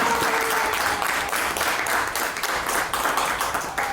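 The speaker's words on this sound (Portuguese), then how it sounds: "Vamos aplaudir bem forte para Jesus." Church congregation applauding loudly during a sermon, a dense continuous wash of many hands clapping close and full throughout, with no talking over it.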